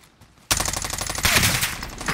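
Automatic gunfire from Call of Duty Warzone, a loud sustained burst of rapid shots starting abruptly after a quiet moment, with a second intensified volley midway, heard alone without speech.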